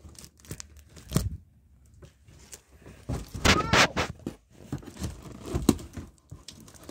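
Cardboard being torn and ripped in several bursts, with crinkling and rustling between them, close and fairly loud, with a few soft noises in the pauses.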